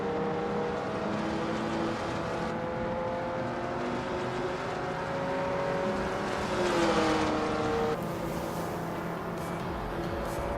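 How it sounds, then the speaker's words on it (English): Race car engines roar continuously in an AI-driven car racing video game, a dense layered drone with whining tones that shift in pitch as cars pass, loud and steady throughout with no voices. "We are just about to watch some exciting AI-powered car races, so get ready for some speedy action."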